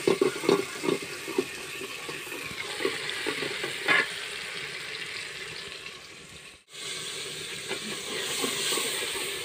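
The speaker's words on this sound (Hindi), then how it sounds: "तो अभी इसमें डाल रही हूँ टमाटर और हरी मिर्च।" Tomatoes and green chillies sizzle and hiss in a hot pan, a steady frying crackle with a few louder stirring bursts and a brief cut near the end, no voices.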